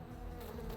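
Insects buzz in an anime episode, a brief close droning hum with no speech over it.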